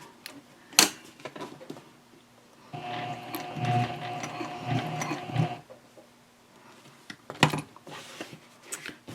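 A sewing machine whirs through a short run of stitches along a messenger handbag edge, a close mechanical buzz lasting a few seconds between clicks and handling noises.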